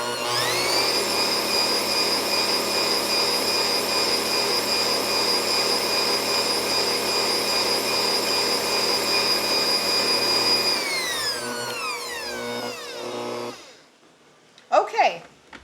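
An electric hand mixer whirs steadily through orange cake batter, a loud, even motor hum with bright harmonics that holds for about eleven seconds, then winds down and stops, followed by a few faint clatters.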